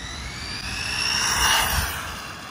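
An Arrma Typhon TLR Tuned RC car runs on pavement, its high-pitched electric motor whine rising as it nears, peaking, then fading as it passes, with tire roar underneath and no talking.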